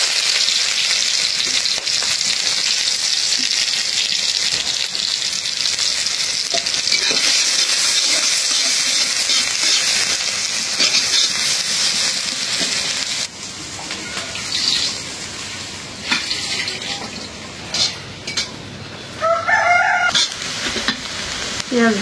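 Onions frying in mustard oil in a hot wok, a loud, dense crackling sizzle that settles partway through into a softer hiss with intermittent stirring scrapes and clatter.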